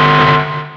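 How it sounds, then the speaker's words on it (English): A single sustained guitar chord rings out, thick and buzzy with hard-clipping distortion from a Blue Cat Audio Axiom 2 amp plugin, loud at first and fading over under a second. "really hard clipping"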